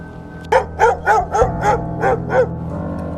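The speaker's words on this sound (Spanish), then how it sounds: "corrieron hacia nosotros, meneando sus colas y ladrando de alegría" Several dogs bark in a quick, excited run of about seven yapping barks, close by and loud, with no talking.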